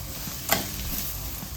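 Onion and crushed garlic sauté in a pan with a soft, steady sizzle, broken by one brief scrape of a stirring spoon, faint and close.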